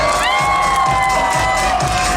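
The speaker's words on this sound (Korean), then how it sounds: "함성 한번 크게 질러주세요." Crowd at a children's daycare recital cheering and shouting loudly, a dense continuous roar of many voices with children's high shouts, sustained throughout.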